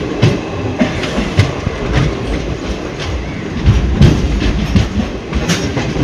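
Mangaluru Central to Thiruvananthapuram Central train running steadily, with continuous rumble of carriages and periodic clickety-clack of wheels over rail joints, heard from inside the coach.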